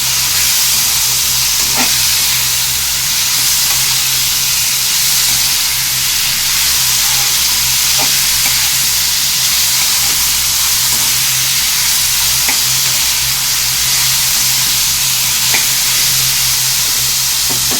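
A loud, steady sizzle of cauliflower frying in a pan, with occasional light clicks of stirring over a constant hiss, no voices.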